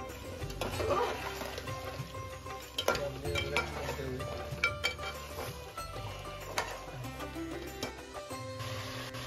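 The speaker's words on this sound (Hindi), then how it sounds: "अपनी करछी को लगातार चलाएंगे ताकि ये तली पर चिपके ना।" A ladle stirs shahi mutton korma in a pot, giving quiet, irregular scraping and knocking strokes against the metal over a low simmering sizzle, with no talking.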